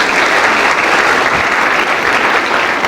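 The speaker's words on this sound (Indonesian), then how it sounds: "ya boleh beri tepuk tangan." A crowd claps steadily and loudly, a dense wash of applause that holds at an even level from start to finish.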